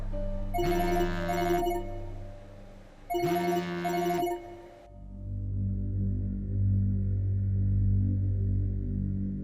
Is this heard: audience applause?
no